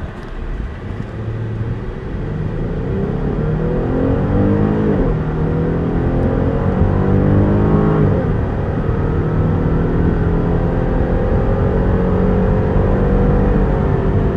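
A Dodge Durango SUV pulls away from a standstill, its engine rising through several gears with audible shift dips and a strong, continuous roar that holds loud through the run.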